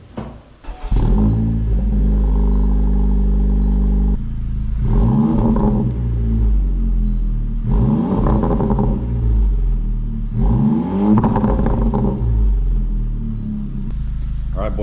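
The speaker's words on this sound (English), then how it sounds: "Now we're gonna do a little start of the engine here." A Honda Civic Type R FL5 engine fires up with a short cranking burst, then settles into a loud, steady idle broken by several rising revs, heard close by.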